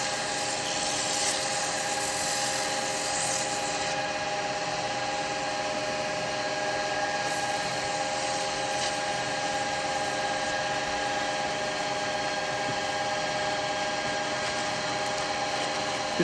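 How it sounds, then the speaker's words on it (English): A steady whirring drone of a spinning wood lathe with a constant abrasive hiss of sanding on end-grain turned wood, continuous and close, without talking. "A little bit of sanding on that."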